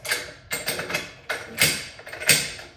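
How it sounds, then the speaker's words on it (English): Metal rifle parts of a PSA JAKL, bolt and piston, clack and scrape as they are fed into the upper receiver, giving several close, sharp mechanical clicks and knocks with no talk. "revert your upper like this, and then feed your bolt down in it with your piston"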